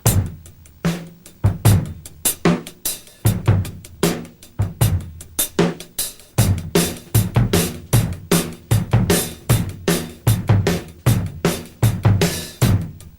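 Drum kit laying down a groove that blends funk and rock feels, with crisp snare backbeats, kick drum and hi-hat in a tight repeating pattern, close and loud with no talking.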